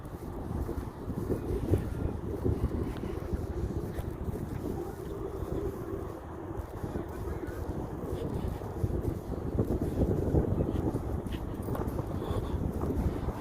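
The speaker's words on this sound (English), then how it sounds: "God, that wind's picking up." Wind blowing across open farmers' fields, a steady low buffeting rumble over the microphone that continues throughout without letting up.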